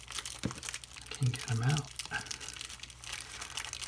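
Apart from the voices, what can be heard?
crinkling plastic bags being pulled apart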